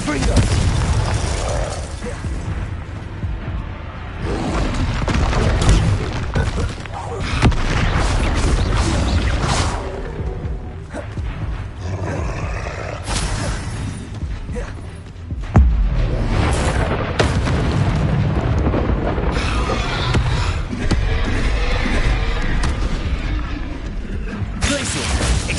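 Spell blasts and combat in the Hogwarts Legacy video game produce repeated booms, crashes and bursts in dense succession, loud and close, mixed with shouted voices.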